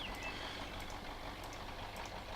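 A tanker truck's engine idles in the off-road driving game SpinTires, a steady low rumble that holds at an even level for the whole stretch with no talk over it.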